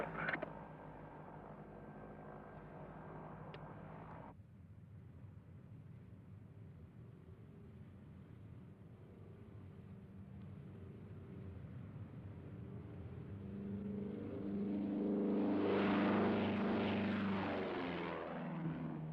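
A light propeller aeroplane's engine drones steadily, then swells louder and rougher toward the end as it revs up for takeoff, fairly close, in 1968.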